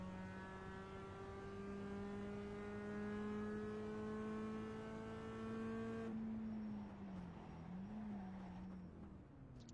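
A Mazda Cup race car in iRacing holds a steady high engine drone at speed, then the pitch drops and wavers as the driver downshifts, the revs dipping and blipping unevenly, loud and close, no talking.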